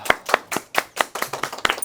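Hands clap in a quick, slightly uneven run of about nine sharp, close claps in under two seconds.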